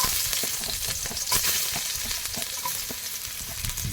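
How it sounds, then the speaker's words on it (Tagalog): Garlic sautés in a hot pan with a close, bright, crackling sizzle and a few stirring scrapes, steady throughout with no talking. "Ngayon naman, magigisa tayo. Meron tayong bawang."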